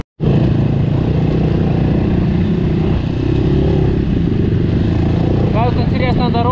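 Quad bikes setting off on a forest trail, with a loud, steady engine drone and rumble starting abruptly and continuing throughout, close to the listener.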